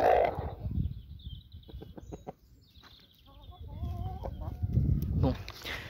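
A Brahma rooster clucks in short, throaty bursts nearby, mixed with rustling and handling noise, loud at the start and end.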